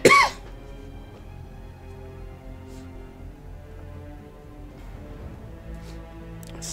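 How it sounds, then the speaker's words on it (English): A single short cough right at the start, close and loud, followed by quiet room tone with a low hum and faint background sounds. "Sorry for the cough."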